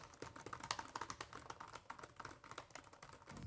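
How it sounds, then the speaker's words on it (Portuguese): Someone types on the chiclet keyboard of an LG Gram 2022 laptop, producing a quick, steady run of close, crisp keystrokes with no talking. "Eu vou fazer aqui para que tu ouças como é que é o digitar nele."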